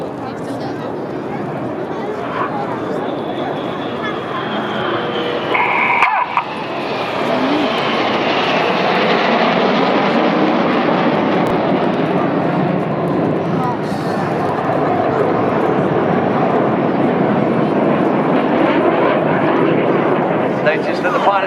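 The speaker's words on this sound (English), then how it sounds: "They're closing at 800 miles an hour. They're going to cross 3 times in opposing 360 degree 6G turns." Red Arrows jets roar continuously during a carousel manoeuvre at the Sunderland Airshow 2014, a loud sustained engine rush with crowd and commentary noise mixed in throughout.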